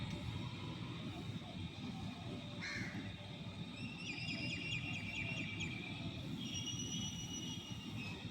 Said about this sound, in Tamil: பறவைகள் சத்தம் மட்டும் நல்லா கேட்குது ஃப்ரெண்ட்ஸ்.